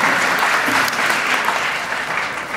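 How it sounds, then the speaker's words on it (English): A theater audience breaks into loud, full applause for Kevin Feige at an Iron Man 3 event, a dense wash of clapping that fills the room and stays steady throughout. "Big hand of applause."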